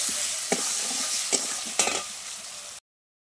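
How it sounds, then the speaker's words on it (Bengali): Chopped onions stir-fried with potatoes in a pan make a loud, steady sizzle broken by three sharp scraping stirs of a spatula, then the sound cuts off abruptly. "এখন পেঁয়াজগুলো দিয়ে দেবো, পেঁয়াজ কুচিগুলো দিয়ে দেবো, দিয়ে ভালো করে ভাজা করে নেব।"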